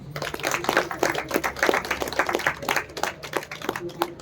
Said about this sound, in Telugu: ఒకసారి సీతమ్మ తల్లి గట్టిగా చప్పట్లు కొడదాం